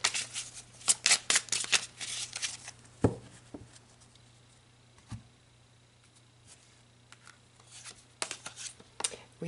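A deck of tarot cards is shuffled up close in quick flurries of crisp riffling and slapping, then goes quiet apart from a couple of soft taps before another burst of rapid shuffling near the end.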